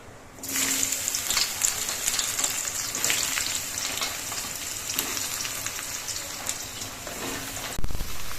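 Sliced ridge gourd goes into hot oil already frying with nigella seeds and dried red chili, giving a loud, steady close-up sizzle that runs nearly the whole time, with a brief knock near the end.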